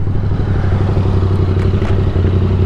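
Motorcycle engine held at a steady rasping, throbbing drone while the rider pulls wheelies on a winding road, loud and close throughout with no break.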